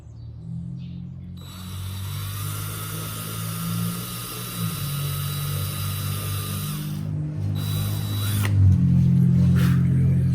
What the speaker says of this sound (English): Go ahead and pre-drill my holes.